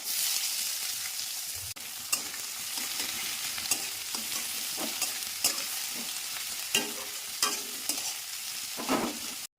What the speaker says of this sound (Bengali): আমার এখানে পেঁয়াজটা ভাজা ভাজা হয়ে গেছে